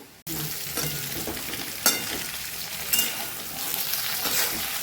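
Thin slices of potato fry in a pan with a steady, close sizzle and crackle, broken by a couple of sharper pops and stirring scrapes, without any voices.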